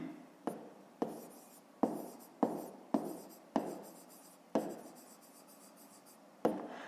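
Pen strokes on paper while working a fifth-grade maths exercise: a series of close, distinct scratchy writing strokes with short pauses between them, quiet and without speech.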